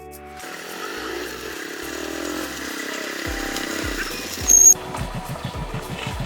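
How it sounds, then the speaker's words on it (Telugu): A motorcycle engine catches and idles with a buzzing, uneven putter, then a sharp rev burst and choppy throttle blips close by, no speech over it. "ఇట్లా స్టార్ట్ అయినాక క్లచ్ పట్టాలన్న."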